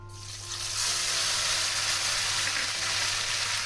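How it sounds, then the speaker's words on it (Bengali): Ground onion, ginger, garlic and green chilli paste hits hot oil in a pan, giving a steady, close, bright sizzle and crackle of frying that holds evenly for a few seconds. "ফোড়নটা ভাজা হয়ে গেছে এবার আমি এর মধ্যে দিয়ে দেব বেটে রাখা পেঁয়াজ আদা রসুন আর কাঁচা লঙ্কা"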